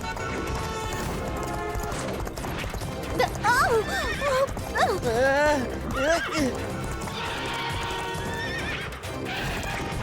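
A cartoon horse neighs in several rising and falling whinnies over a steady clip-clop of hooves, with background music and sound effects throughout.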